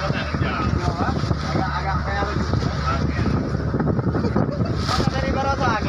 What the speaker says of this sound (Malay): Dari barat angin.